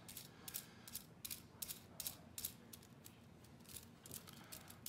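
A 3D-printed print-in-place ball bearing spins, giving a faint, rapid, repeating clicking rattle that pulses in regular bursts throughout, close up and quiet with no voices.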